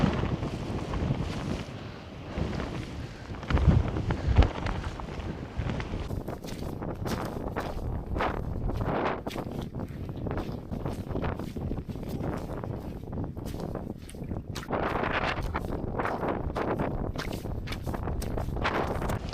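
Strong, stormy wind buffets the microphone on open boggy fells, a loud, continuous rushing roar with gusts that swell and ease throughout.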